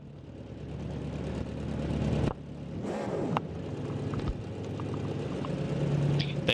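GT race cars in a racing video game rev their engines together on the starting grid before a GT World Challenge race at Spa, a loud continuous engine roar with brief dips and sharp revs throughout.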